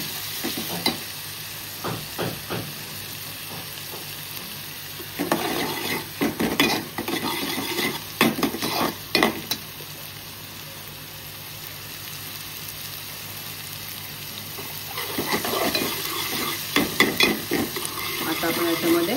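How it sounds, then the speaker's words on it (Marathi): Crushed chili, coriander and garlic sizzling in a pan, with bursts of stirring and spoon scraping against the metal, then quieter stretches of low frying hiss between the stirs. "मिरची, कोथिंबीर आणि लसूण ठेचून घेतलेला आहे ते टाकूया. एक मिनिट शिजवून देऊ"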